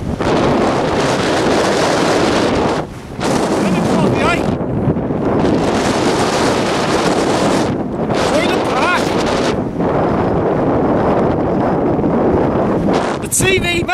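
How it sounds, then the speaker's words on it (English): A strong gale roars across the exposed hilltop of Moel Y Parc, buffeting the microphone in long loud gusts with brief lulls between them, while a person shouts over the wind. "Oh, it's blown a gale up here!"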